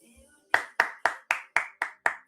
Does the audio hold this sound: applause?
yes